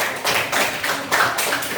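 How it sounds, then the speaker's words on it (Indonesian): A group claps hands together in a classroom lesson, the claps landing in a steady rhythmic pattern of short, fairly loud bursts with no talk over them. "Tepuk tangan buat kita semuanya."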